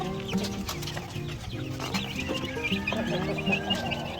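Chickens on a farm pecking at feed, recovering from illness, with steady clucking and soft pecking in a busy, continuous din throughout.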